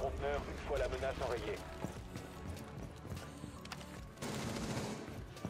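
Rapid bursts of gunfire from the Rainbow Six Siege video game play in quick volleys, with voices talking over the action.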